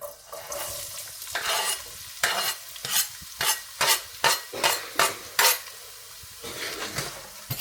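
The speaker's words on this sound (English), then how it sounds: "when it starts to sizzle, which it looks like it is doing, we now go in with our onion" Chopped onion frying in ghee with a cinnamon stick for vegetable korma, stirred with a spoon in a pan: a steady sizzle under a run of rhythmic scraping strokes, close and fairly loud, with no talking.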